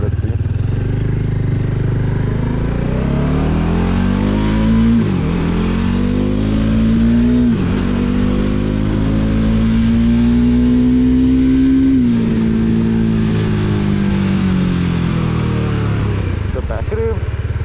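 A first-generation Bajaj Dominar 400 motorcycle fitted with a dual barrel exhaust revs loudly and up close, its deep bassy engine note climbing and falling through several sustained throttle blips.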